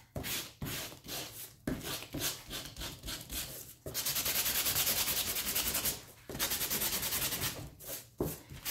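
Edges of a wooden door hanger are sanded by hand to distress them, close and steady. Short rhythmic rubbing strokes give way to a longer continuous stretch of scraping.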